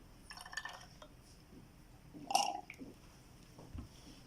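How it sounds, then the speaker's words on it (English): Distilled water poured into a glass laboratory flask to bring a solution up to volume, with faint trickling and dripping, a brief brighter glassy clink and splash near the middle, and soft knocks, quiet and close with no talking. "complete the volume for QS 250 using distilled water"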